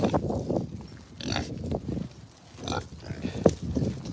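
Pigs at an animal sanctuary grunt and squeal in short irregular bursts, fairly close, with a sharp squeal near the end and quiet gaps between.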